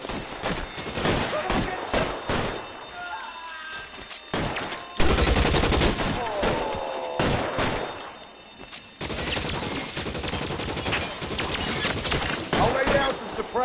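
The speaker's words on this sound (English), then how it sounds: "Suppression fire." Rapid bursts of suppression gunfire crack out during a bank shootout in L.A. Noire, with repeated sharp volleys close by and brief lulls between them.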